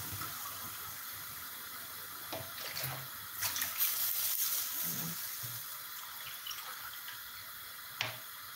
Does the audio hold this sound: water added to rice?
yes